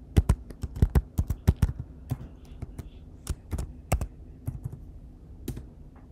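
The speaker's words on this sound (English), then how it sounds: "Enter the password of your Mac." A Mac keyboard is tapped out in quick bursts as a password is typed, with crisp, close key clicks in an irregular rhythm, clustered early and then sparser, and no voices.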